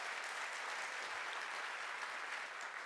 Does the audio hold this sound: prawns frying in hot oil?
no